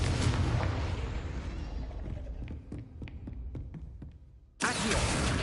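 Confringo fire spell explosion in Hogwarts Legacy: a loud burst decaying into crackling debris and scattered taps, then a second sudden blast near the end.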